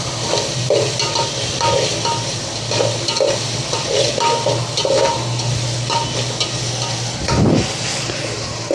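Onion and tomato sizzling in a hot pan while a spoon stirs and scrapes them in a loose rhythm, close and fairly loud, ending with a clatter.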